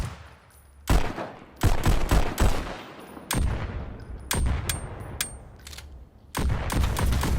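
Sharp suppressed gunshots from a high-caliber silenced pistol in the Pistol Whip VR shooting game, fired as about a dozen punchy single and double shots at an uneven rhythm, loud and close with no voices.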